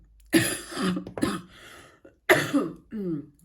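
Someone coughs several times in quick, harsh bursts with short pauses between, close and loud, ending in a raspy throat-clearing sound.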